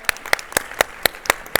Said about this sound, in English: let's have one more round of applause for SiDeploy